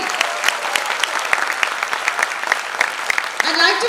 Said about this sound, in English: Huge round of applause for our country.